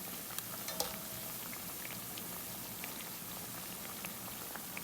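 Dahi bhalla vadas fry gently in hot oil over a low flame, giving a soft, continuous sizzle dotted with faint pops and crackles.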